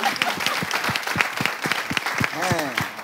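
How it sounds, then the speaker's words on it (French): An audience on a French TV show applauds in a steady burst of clapping, while a voice speaks over the applause throughout. "Applaudissements pour elle"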